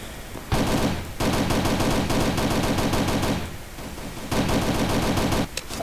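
Loud, rapid automatic gunfire rattles in the video game Battle For Survival. Two long bursts are split by a short gap, and a final short volley follows near the end.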